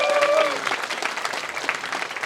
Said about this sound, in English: so quick cheer for those guys